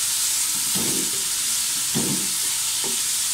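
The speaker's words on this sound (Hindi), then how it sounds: "अब मैं इसके अंदर ये चॉप प्याज और चॉप शिमला मिर्च डाल दूंगी" Chopped onion and capsicum stir-frying in a pan for chow mein, a loud steady sizzle and hiss with a few scraping stirs breaking through, close and continuous.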